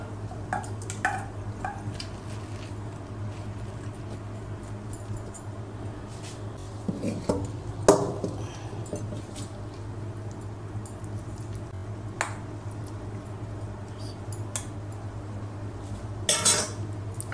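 Pots and cutlery clink and scrape as a pumpkin dish comes off the stove, with scattered clatters and one louder knock over a steady low hum, no talking.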